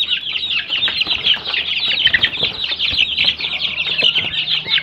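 Healthy chicken and turkey chicks, mostly black with a few brown, chirp and cluck in a dense, continuous chorus of high peeps close by, with occasional wing flutters and no talking.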